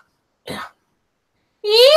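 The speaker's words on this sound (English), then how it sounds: "Clear your throat and From the diaphragm." A single short throat clearing is followed by a louder, drawn-out voiced sound, close to the microphone in a quiet room.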